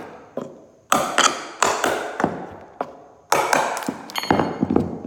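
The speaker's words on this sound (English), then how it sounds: "Just line up the pry bar and just go down the line." A pry bar taps and wrenches a carpet tack strip off a wood subfloor, producing a sequence of sharp metallic knocks and cracking pops, each followed by brief splintering creaks, close up and irregularly spaced.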